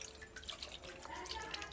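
Fresh fish being rinsed in clean water for a Malvani-style fish curry, a soft steady trickle and splash of running water, faint and continuous.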